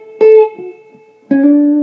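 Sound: guitar playing an intro solo lick with slide

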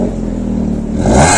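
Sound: modified Maruti Swift car engine revving with exhaust valve closed

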